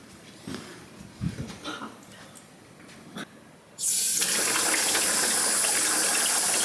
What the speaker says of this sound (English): The water comes out.